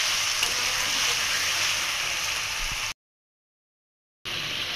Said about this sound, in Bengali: পেঁয়াজ রসুনটা ভাজে নিচ্ছি সুন্দর করে